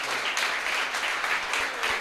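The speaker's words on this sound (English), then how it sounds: "Please give a round of applause to Ed Brubaker." A room of people at the launch party for the comic Fatale applauds writer Ed Brubaker. The clapping is a steady, dense wash at a moderate level, with no gaps or voices.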